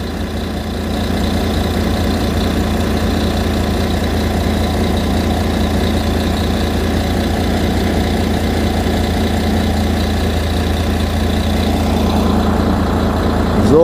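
A bus engine idles before departure with a steady, loud, low rumble that holds constant throughout and rises slightly near the end.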